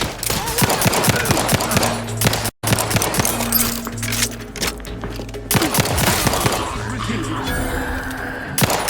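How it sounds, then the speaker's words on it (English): Rapid gunfire and bursts from a firefight in The Outer Worlds 2, dense continuous shooting with a grenade blast, a brief dead gap near the middle, then more shooting under game music and a voice. "Grenade!"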